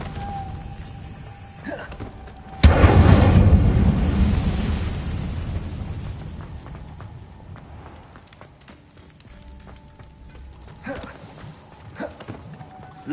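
A fiery spell blast in a fantasy wizard video game erupts suddenly as a loud, broad whoosh that decays over several seconds, with quieter game sounds and brief voices around it.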